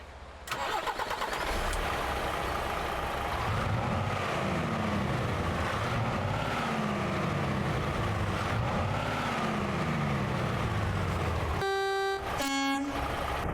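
In the American Truck Simulator video game, a truck engine cranks and catches, then settles into a steady, moderately loud idle rumble, with a couple of short electronic chimes near the end and no talking.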